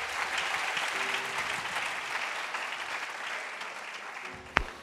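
Church congregation applauding the singers during a Monday worship service, steady dense clapping throughout at moderate volume with a brief sharp thump near the end.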